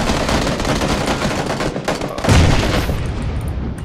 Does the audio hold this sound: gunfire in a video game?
yes